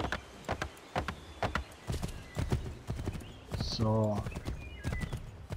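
Horse hooves clip-clopping steadily while riding in Assassin's Creed III, with a brief whinny partway through, under someone talking in German over the game.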